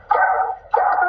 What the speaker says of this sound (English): Is that the dog?